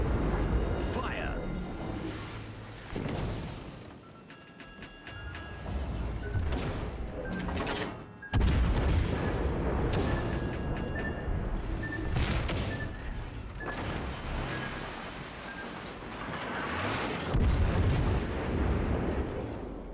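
Naval guns firing in the video game World of Warships Legends, with repeated heavy booms and rumbling blasts over dense battle noise and music, loud and close, with a voice speaking briefly.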